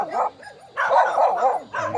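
A dog on a farm lot in Magdalena, Laguna barks in several close, loud, rapid bursts separated by short pauses, with some whining yips mixed in.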